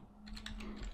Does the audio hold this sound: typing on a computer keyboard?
yes